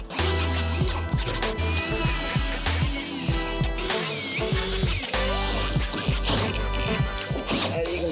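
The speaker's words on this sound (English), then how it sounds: "we're going to countersink the hole." A power drill countersinks a hole in a boat's fibreglass gel coat, grinding and ratcheting in short repeated bursts with clattering and scraping, fairly close and busy throughout.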